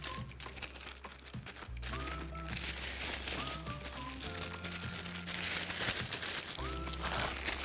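A plastic zipper bag crinkles and rustles continuously as herb soap is handled and kneaded inside it, close and fairly steady, with a low background hum beneath the handling.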